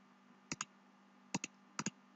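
Three pairs of crisp computer mouse left clicks, faint and close, evenly spaced double taps over a quiet hum.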